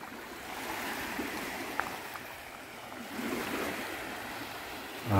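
Gentle surf washing onto a lake beach near the lighthouse at Pelee Island, a steady wash with light wind noise and no voices.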